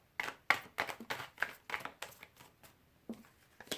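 Cards are shuffled in a series of quick, close, papery slaps and riffles, about a dozen bursts in a loose rhythm.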